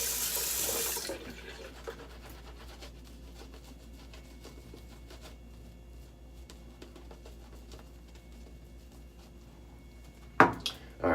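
A tap gushes loudly for about a second as water is added to shaving lather in Hawaii, then shuts off, leaving a quiet room with faint small clicks and a brief clatter near the end.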